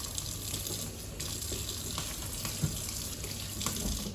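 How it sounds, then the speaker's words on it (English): Tap water runs continuously into a sink to rinse off cleaning product, a steady close splashing gush throughout with no voices. "you can then just rinse off that product"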